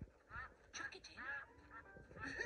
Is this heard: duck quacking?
yes